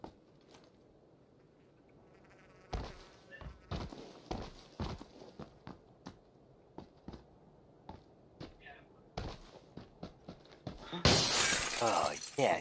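Glass shatters with a loud, bright burst in a multiplayer shooter game, following a series of quieter footstep-like thuds and clicks; players chat over the game sounds.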